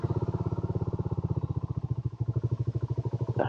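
A BSA Goldstar 650 motorcycle engine fires and runs with a fast, even thumping pulse close by, holding steady for a few seconds before a brief clatter at the end.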